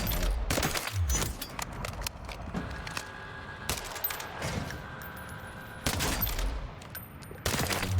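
Sniper and marksman rifle fire in a long-range video game shootout: repeated loud sharp shots come in clusters with echoing tails, set against a steady background of distant battle noise.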